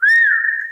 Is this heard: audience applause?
no